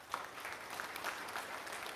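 Applause from a group at a yoga camp, steady and fairly faint, continuing for a couple of seconds without voices.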